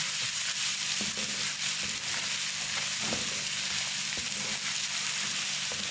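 A steady oily sizzle of garlic and cumin paste frying in a pan, with occasional faint clinks and stirring scrapes, quiet and close.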